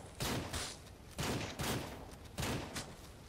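Rapid bursts of gunfire from several players shooting livestock in the video game Ranch Simulator, three loud volleys about a second apart, each a dense crackle of overlapping shots.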